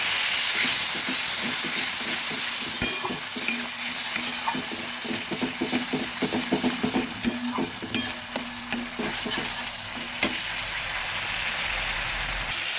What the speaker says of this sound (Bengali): সামান্য একটু জল দিয়ে সব মশলাগুলো মিশিয়ে নিচ্ছি